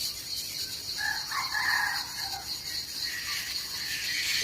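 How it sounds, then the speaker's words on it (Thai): A distant jungle fowl crows once, thin and far off, over a constant shrill chorus of insects in a forest in the early morning. "เสียงไก่ป่าครับ"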